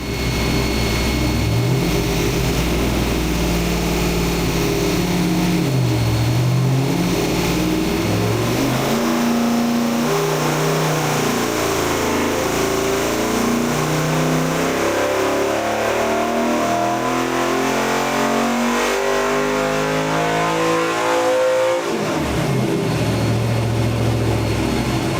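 A forged 408 cubic-inch LS V8 runs hard on a dyno, roaring loud and close as it revs up and down through repeated pulls, rising and falling in pitch without pause.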